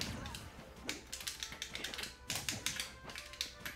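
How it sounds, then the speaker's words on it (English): Rapid plastic clicks from game controller buttons during a Smash Bros. match, a quiet, irregular clatter of taps close by with no voices. "You can always hear the controller clicking."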